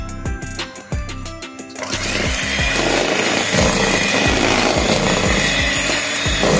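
An electric mixer beats eggs into plum cake batter, starting with a loud, steady whirring drone that runs without a break after a short stretch of quieter sounds.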